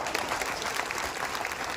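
Steady applause from a crowd at a Jan Suraaj political rally in Bihar, dense and continuous clapping at moderate distance with no voice over it.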